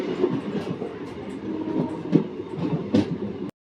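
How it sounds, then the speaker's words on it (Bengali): The Teesta Torsa Express sleeper train pulls out of Azimganj station, a steady low rumble of the moving carriage with a few soft clanks and wheel thumps, heard from inside the coach. "তারপর এখন আজিমগঞ্জ স্টেশন থেকে ট্রেন ছাড়লো"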